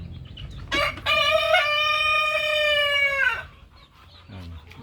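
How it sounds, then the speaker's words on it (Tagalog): A Rhode Island Red or Shamo stag rooster in a backyard crows once, loud and close, a long drawn-out call, with faint clucking from other chickens before and after. "Ating isa pang Rhode Island Red. Ating Shamo Stag."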